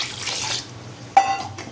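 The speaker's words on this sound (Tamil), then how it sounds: "இப்போ இன்னும் கொஞ்சம் தண்ணி ஊற்றிக்கிடுவோம்." Water is poured into a pot of sambar on the stove, a brief close splashing rush that stops, followed by a short trickle and a faint drip against a low background hum.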